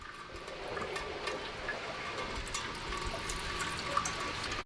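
Water trickles and gurgles steadily at close range as it drains from the flooded engine of a wrecked Porsche 911 GT3 RS, a continuous draining sound with small drips, ending abruptly.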